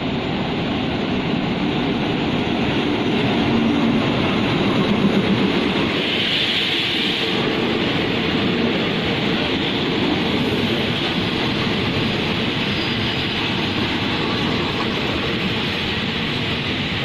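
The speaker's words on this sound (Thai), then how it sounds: "เร็ว167นะครับกรุงเทพ" Thai rapid train 167 from Bangkok to Kantang rolls along the rails, a loud, steady rumble and rushing clatter heard from inside the carriage with no talk.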